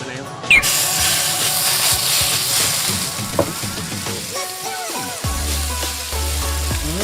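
Thai curry paste sizzles and crackles in a hot pan with a steady frying hiss, with scraping and stirring sounds and a voice talking over it.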